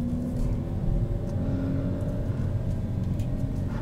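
A 2021 Kia Forte with manual transmission pulls away on light throttle, its engine holding a steady low hum and rumble that rises slightly, close and continuous with no talking.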